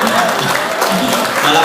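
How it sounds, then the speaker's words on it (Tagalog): Audience clapping during a product presentation, a brief burst of applause with a voice talking over it. "Palakpak."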